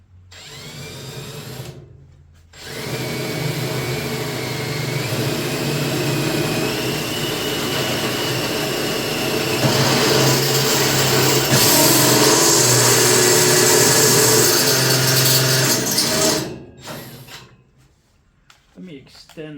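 A power drill runs steadily through a hole pre-drilled with a 1/8 inch bit, working on the fabrication of a 1955 Cushman Truckster racetrack pit vehicle; a loud continuous whine lasts about fourteen seconds, rising slightly in pitch, with brief pauses before and after.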